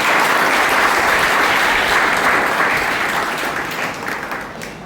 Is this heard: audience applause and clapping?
yes